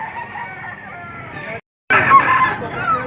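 Chickens cluck and a rooster crows at a poultry market, loud and close, with a brief gap before a second burst of crowing and squawks.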